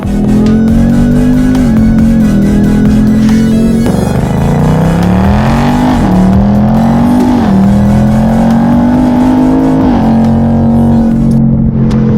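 A 2021 Ford Mustang Mach 1 engine revs loudly and continuously, its pitch rising and falling through repeated throttle pushes and gear changes, close up.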